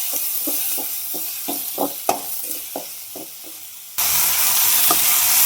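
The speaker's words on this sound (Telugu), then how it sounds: "ఆవాల, జీలకర్ర, ఆనియన్స్ అయితే వేయించేసుకుంటున్నానండి. అందులోకి కొద్దిగా కరివేపాకు వేసాను. టమోటా కూడా వేసానండి." Mustard seeds, cumin, onions, curry leaves and tomato fry in a pan, with steady sizzling and repeated scraping stir strokes, then a louder burst of hiss near the end.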